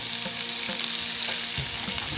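Potatoes frying in a pan with whole cumin and coriander seeds, a steady close sizzle with a few soft stirring scrapes and clinks, no voices.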